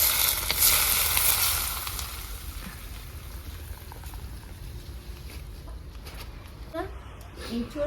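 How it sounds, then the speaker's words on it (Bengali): Chopped onions frying in hot mustard oil, with a loud hissing sizzle at first that settles into a softer bubbling crackle, close by, followed by a few light clinks and a voice talking. "দিয়ে দেবো কেটে রাখা পেঁয়াজ। তো বন্ধুরা, গরম করে সরষের তেল দিয়ে দিচ্ছি।"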